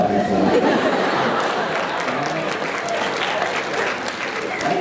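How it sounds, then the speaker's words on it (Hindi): An audience claps in sustained applause, loud and dense throughout, with some faint chatter and light laughter mixed into the crowd. "किसी के किडनैप पर ताली कोई बजाता है क्या?"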